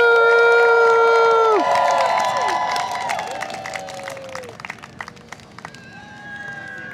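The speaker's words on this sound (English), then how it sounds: "Let me hear you cheer for Sir Malcolm!" Spectators at a renaissance fair joust cheer loudly for a knight, with high whoops and shouts over applause that peak early and then settle into scattered claps and yells.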